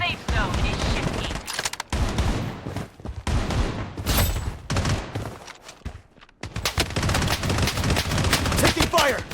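Dense video-game gunfire on Shutter Island in a battle-royale match: rapid bursts and volleys of shots crackle almost continuously, with short lulls near two and six seconds, while game voice callouts sound over the shooting.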